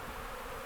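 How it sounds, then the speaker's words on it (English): Honey bees swarm in a freshly opened hive, a dense, steady buzzing hum filling the moment close up, with no voices. "You can see how many bees are here. There's a ton."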